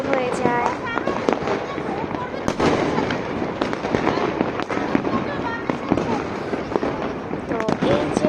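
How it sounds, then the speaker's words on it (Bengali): Fireworks set off on New Year's Eve, a dense continuous crackle of many bursts and pops from near and far, with people talking throughout. "তো এই যে বাজি ফোটানো স্টার্ট হচ্ছে"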